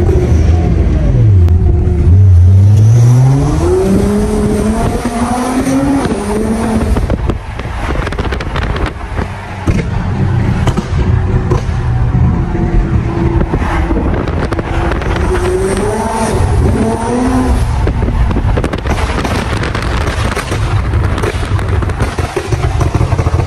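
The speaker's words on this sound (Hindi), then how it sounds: "पॉप्स एंड बैंक सुनाते हैं गाड़ी के।" An 800HP Nissan GT-R R35 with a road tune revs hard, the exhaust rising and falling in pitch through several pulls, with pops, crackles and wind buffeting on a road test run.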